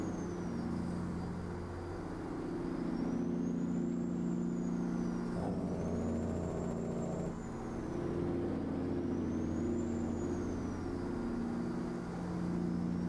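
A heavy truck's engine brake in a truck simulator game gives a sustained low droning rumble that throbs steadily, with a faint rising and falling whine above it and no talking.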